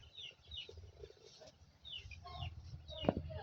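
Desi chickens clucking in a village coop, soft scattered clucks and short calls from several birds, fairly faint and close, with rustling in the background.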